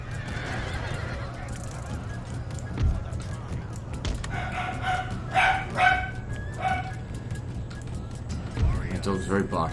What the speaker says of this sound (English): My dog's very barky lately.